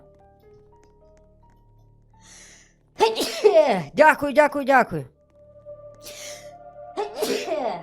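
A person gives two sharp sneezes in quick succession. Quiet game sounds play before them, and a short spoken phrase follows.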